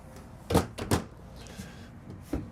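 Deep soft-close drawers in a 2023 Newmar Canyon Star 3947 motorhome, giving a few soft, close thumps: two near together, then a quieter one after a pause, over faint room noise.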